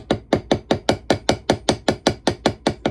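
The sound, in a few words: small 4-ounce hammer tapping marks into knife handle pins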